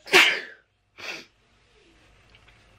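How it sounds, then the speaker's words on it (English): A single sharp sneeze bursts out close to the mic, followed by a softer second expulsion and then near silence with faint room noise. "Oh, I just sneeze."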